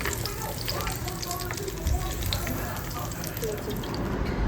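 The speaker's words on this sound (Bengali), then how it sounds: "আমি ফ্রাইগুলো ভেজে নিই" French fries frying in a pan at home, a close, continuous sizzle and crackle with small bubbling pops, running steadily throughout while a voice is faintly heard.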